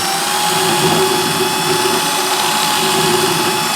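An electric drill fitted with a small bit whirs steadily at close range on a 1980s J.B. Player Professional Series guitar, a constant high motor whine with no pauses.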